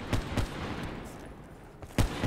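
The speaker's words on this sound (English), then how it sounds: "Gun shoots so fast." A rapid-firing gun in Black Ops 3 lets off short bursts of shots near and loud, a quick pair at the start and another pair after a brief pause.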